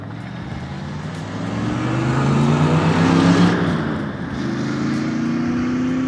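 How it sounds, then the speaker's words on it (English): A red 1963 Corvette with a 4-speed manual drives past outdoors, its engine rumble building as it nears and revs, then easing off as it moves away. "63 red Corvette, 4-speed."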